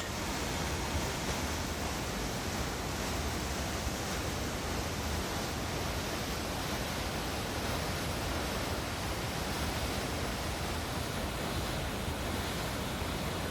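A powerful river rushes through a gorge in the Pacific Northwest, heard as a constant, even wash of water noise at moderate level, continuous and alone without voices.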